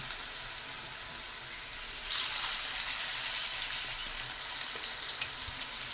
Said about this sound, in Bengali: এখন আমি পেঁয়াজিগুলো দিয়ে দেবো আর মিডিয়াম আছে ভাজবো